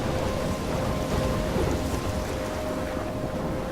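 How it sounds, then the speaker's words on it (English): A thunderstorm with steady heavy rain in the video game Life is Strange, a dense continuous wash of rainfall with low rumbling thunder underneath, fairly loud and even throughout with no talking. "I'm trapped in a storm?"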